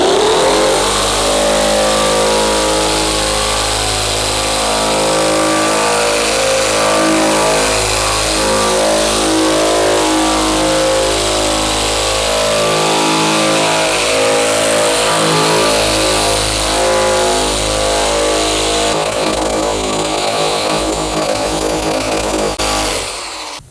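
A coarse stripping drum on a power tool grinding paint off a 1967 Ford Mustang body panel, a loud, continuous motor whine with harsh abrasive scraping that holds steady for over twenty seconds, close up with no talking.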